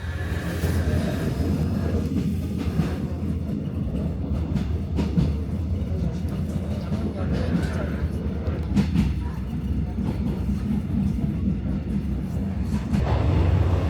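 A train rumbles steadily along the rails through a winding gorge, a continuous low rolling noise with occasional clicks and rattles, heard from on board, with a voice speaking over it.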